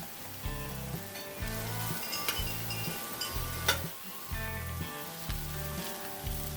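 Bratwurst sausages sizzle loudly and steadily on a griddle over a kettle setup, with a low rhythmic thumping underneath and occasional sharp clicks and pops, no talk.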